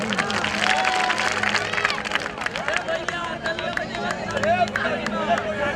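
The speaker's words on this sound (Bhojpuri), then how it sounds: "इनके लिए जोरदार तालियां हो जाए भाई" Crowd at a live Bhojpuri stage show in Gujarat claps and cheers in a dense, steady wash of applause mixed with babble and shouts, sustained loudly throughout.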